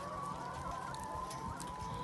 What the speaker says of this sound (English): This is the hut where our chickens live.